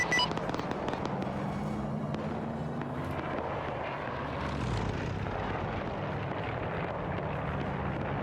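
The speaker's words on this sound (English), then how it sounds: "It looked like he was doing a bombing run" Propeller aircraft making a bombing run in the Arma 3 World War II battle, a loud steady engine drone with a rising pass and scattered distant blasts underneath.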